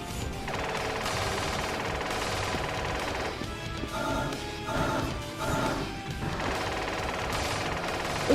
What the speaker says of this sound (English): it's time for the Super Valkyrie Cannon